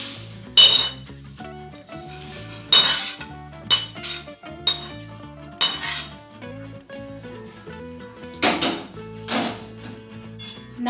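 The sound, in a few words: roasted sesame seeds being taken off a dry pan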